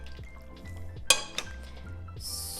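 Dishes clink as tortellini in brodo is plated, with one sharp bright clank of crockery and a few softer knocks over a low kitchen hum, followed by a brief hiss near the end.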